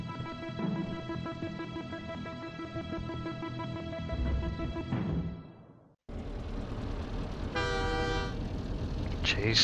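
Train horn in the Driv3r video game during a train chase, sounding as a sustained tonal blast near the end over loud engine rumble and game noise, after a brief drop to silence.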